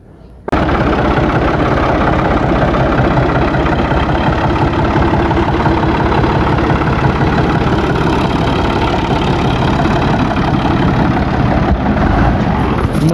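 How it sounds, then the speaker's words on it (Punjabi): Tractor engine running loud and steady after a hard start that needed several pushes, with a continuous chugging idle close by from start to end and some voices under it. "ਮਸਾਂ ਹੀ ਹੋਇਆ ਜੇ ਟਰੈਕਟਰ ਸਟਾਰਟ, ਅੱਗੇ ਹੁੰਦਾ ਹੀ ਨਹੀਂ ਸੀ।"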